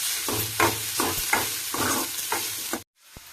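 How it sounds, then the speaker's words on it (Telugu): Ginger and garlic sizzle loudly in a hot pan, with rhythmic stirring strokes scraping through the oil for about three seconds before the sound cuts off abruptly. "అల్లం వెల్లుల్లి ఈ ముక్కలకు బాగా పట్టేటట్టు వేయిద్దాం."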